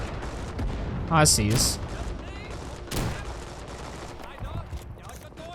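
Gunfire in the Vietnam-era shooter Rising Storm 2: Vietnam, with a loud close shot, another blast a bit later and scattered distant shots amid battle noise, while someone speaks briefly.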